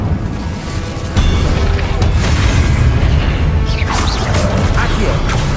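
In Hogwarts Legacy, a Confringo spell lands with a loud booming blast and crashing debris, followed by a sustained rumbling roar amid other combat noise.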